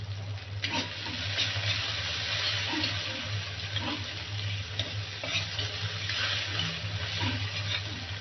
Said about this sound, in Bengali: কিছুক্ষণ ভেজে নেওয়ার পর পেঁয়াজটা একটু ব্রাউন করে ভেজে নিব